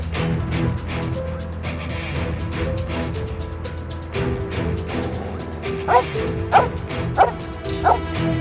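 A dog barks and yips repeatedly throughout a scene from an Urdu drama, with sharper, louder barks clustering toward the end over a steady background sound.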